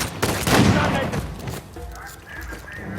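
Shotgun gunfire in the video game Uncharted 4: a loud close blast with a rolling decay, followed by quieter game ambience and a faint tonal sound.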